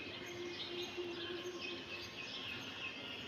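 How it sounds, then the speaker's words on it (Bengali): Faint birds chirping and twittering in the distance, a soft steady chorus over a low background hum. "দেখুন সকালের পাখিদের কৌতূহল শুনুন"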